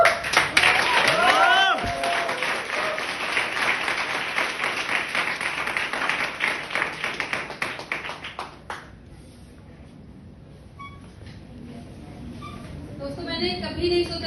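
Audience at a gathering claps together, a dense loud round of applause for several seconds that thins out and fades, with cheering and some talk mixed in, then scattered clapping returning near the end.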